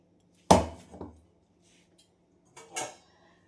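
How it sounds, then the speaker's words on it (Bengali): A metal wok (kadai) is set down on a kitchen gas stove before frying kofta, making a sharp clank followed by a smaller knock and a later scraping clunk as it settles, with quiet gaps in between. "কড়াইটা বসিয়ে দিলাম।"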